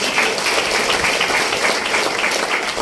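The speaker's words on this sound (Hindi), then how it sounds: "इनके लिए एक बार जोरदार ताली होनी चाहिए" Crowd applause for a company diamond executive at a Hindi-language business gathering, a dense, steady wash of many hands clapping throughout without pause.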